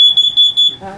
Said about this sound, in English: This is your LP leak detector.